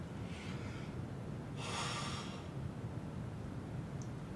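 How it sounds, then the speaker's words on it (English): A person's yawn late at night, a soft breathy drawn-out exhale that swells around the middle and fades over a low steady room hum, with no talking. "Pardon my yawn, it's getting a little bit late."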